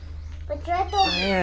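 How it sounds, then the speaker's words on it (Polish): A small rescued ginger kitten meows several times in quick succession, high and insistent, close to the listener, with a steady low hum underneath. "znaleźć nowego kotka, który dzisiaj został uratowany z ulicy."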